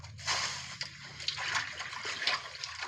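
Water being scooped and splashed out of a fish pond, with repeated sloshing and splattering close by in an irregular rhythm, fairly steady throughout.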